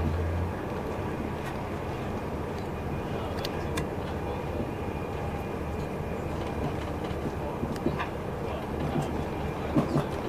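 Train running on rails during a London trip, a steady rumbling roar from inside the carriage with faint clicks and rattles throughout, continuous and even in loudness.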